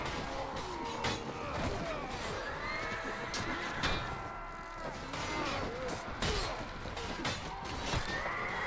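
In the Mount and Blade game, riderless horses left by bandit slavers neigh and whinny again and again over steady battle noise, with hoof clatter and crashing impacts mixed in.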